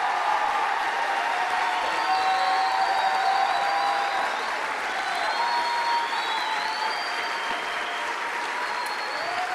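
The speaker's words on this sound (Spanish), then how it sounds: "Por favor, un fuerte aplauso." Steady, dense applause from a church congregation at a Spanish-language Baptist service fills the room throughout, loud and sustained, with faint voices and whistles mixed into the clapping.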